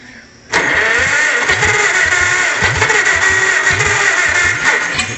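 A small unmuffled engine, freshly filled with oil and with gas in the carburetor, catches abruptly and keeps firing in a loud, rough, rapid popping run close by, with no talk over it.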